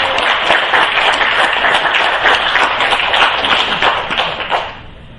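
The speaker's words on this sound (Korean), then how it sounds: "하나님께 영광의 박수를 내줍니다" A church congregation claps in praise of God during a choir dedication service: dense, even applause from many hands, loud and close, holding steady and then fading out at the end.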